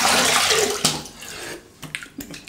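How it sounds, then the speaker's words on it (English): Tap water running briefly to rinse an adjustable injector razor during a wet shave, a loud close splashing flow that drops off, leaving a few drips and small clatters. "A quick rinse."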